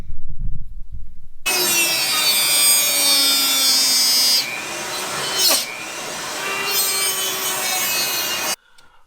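A Dremel rotary tool grinds a slot into a carbon fibre glider part, its high whine steady and loud for several seconds, joined by the rush of a shop vacuum held close to catch the carbon dust.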